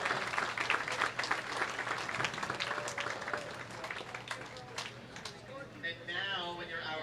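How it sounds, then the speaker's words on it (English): Crowd at a junior bowling tournament applauds the athletes, a moderate burst of scattered clapping mixed with background chatter and a steady hum, with voices rising toward the end. "Let's give these athletes another round of applause as they begin their tournament competition"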